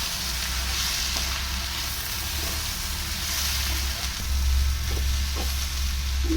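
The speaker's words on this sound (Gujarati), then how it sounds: "આ રીતે બરાબર મિક્સ કરી લઈશું" Hakka noodles stir-fry with sauces in a pan, a loud continuous sizzle with occasional stirring knocks and scrapes, close and steady, no talking.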